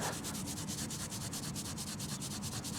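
An old silver threepence coin found metal detecting on a beach is rubbed briskly in fast, even back-and-forth strokes, a close, continuous gritty scraping with a steady pulse and no talking.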